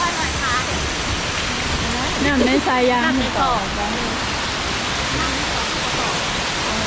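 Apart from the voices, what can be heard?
waterfall in Laos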